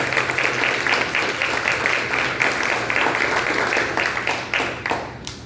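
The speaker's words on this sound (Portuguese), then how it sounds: "Vamos receber o homem de Deus, dando uma salva de palmas para vocês." A church congregation claps to welcome a visiting preacher, a loud, continuous wash of many hands applauding in a large hall, pulsing slightly and tapering toward the end.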